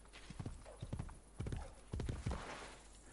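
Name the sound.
horse hooves and neighing, video game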